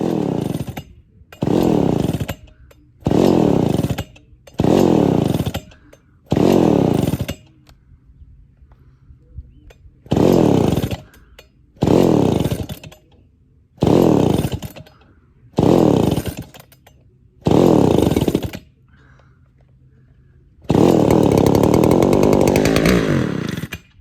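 A Homelite 350 chainsaw with a flooding engine fires up in repeated short bursts, each loud two-stroke roar lasting about a second before cutting out, with a final longer run at the end.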